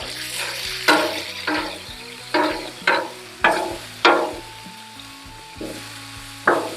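A hot-sauce-topped grilled wrap sizzles steadily in a hot pan, with a run of sharp scraping or stirring strokes every half second or so over the frying crackle; no voices.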